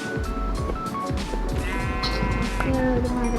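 Goat-like bleats from a video game, several short wavering cries repeating over busy game music and effects, fairly loud and close, with no talk over them.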